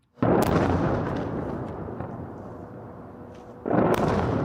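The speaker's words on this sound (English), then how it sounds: "Explosions rocking the capital, Beirut." Airstrike explosions in Beirut, Lebanon: a loud booming blast with a long rumbling roar, then a second sharp detonation near the end, heavy and powerful with no talk over it.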